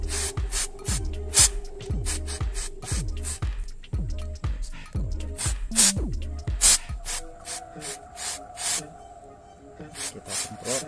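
Carpet cleaner aerosol sprays in quick repeated hissing bursts onto the OCV VVT-i valve of a Toyota Avanza, with short pulses in steady succession and dull clicks between them.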